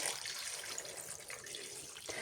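A litre of water poured into a cooking pot while making salt pork in onion skins, a steady close splashing rush that runs throughout with no talking.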